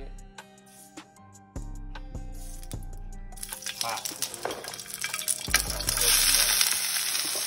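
Shrimp egg roll filling for Jamaican jerk egg rolls is stirred in a hot pan, giving a steady sizzle and frying hiss with scraping stir strokes that builds louder toward the end over a background of music.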